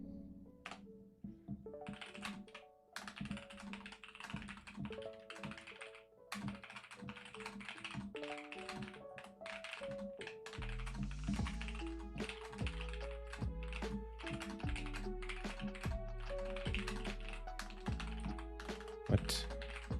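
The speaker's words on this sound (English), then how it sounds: "This is a new keyboard for me, so I'm going to try one more time." Keystrokes on a new computer keyboard clatter steadily throughout, close and fairly loud, with a dense layer of music-like tonal sound running alongside the tapping.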